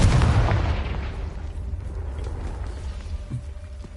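A Confringo fire spell blast from Hogwarts Legacy erupts in a loud booming burst at the start, then rolls into a sustained crackling rumble that slowly fades over several seconds.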